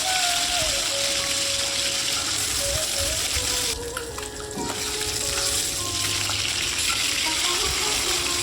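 Small carp fingerlings frying in hot oil for a pumpkin curry, giving a steady close crackling sizzle throughout with a brief dip midway and faint kitchen clatter.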